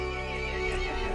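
A horse whinnies in a Resident Evil Village story scene, a clear sustained neigh with a steady tone, heard alone at moderate loudness.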